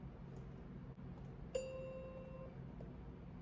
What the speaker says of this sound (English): Okay, they do have a bunch of bells.